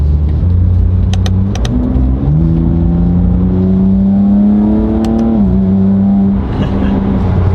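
Loud engine and exhaust drone fills a BMW G87 M2 cabin opened up by a rear roll cage, revs rising steadily then dipping, with constant road roar and a couple of faint clicks.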